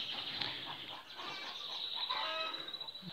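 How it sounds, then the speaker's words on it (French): Songbirds chirp and twitter from the aviaries beside a garden greenhouse. Their busy, overlapping calls run throughout at moderate volume, with a faint voice in the background. "là je suis au milieu de toutes mes volières, tout ce qui est mes oiseaux, donc on entend chanter forcément"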